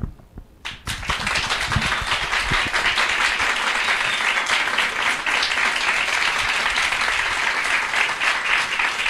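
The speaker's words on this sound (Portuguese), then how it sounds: "Foi aplauso, bacana, mas poderia não ser" A debate audience bursts into loud, sustained applause after a short quiet start, the dense clapping filling the hall for several seconds with little talk over it.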